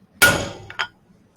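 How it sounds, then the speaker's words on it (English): A hammer, the speaker's "hitting stick", gives a center punch one swift knock into a metal workpiece: a single sharp, ringing strike that decays slowly, followed by a softer clink moments later. "using my hitting stick and my center punch"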